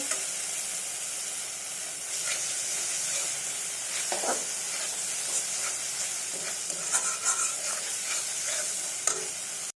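Spice masala for an egg tarka being stir-fried in oil until the oil separates, a steady close sizzle with scattered scraping stirs and small pops throughout.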